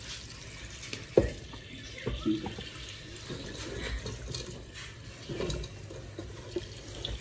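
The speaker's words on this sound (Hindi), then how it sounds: "फिर पानी सारा ड्रेन करना है" Water drained from a pot of boiled noodles pours and splashes steadily into a sink for several seconds, with a few brief clinks and knocks and no talking.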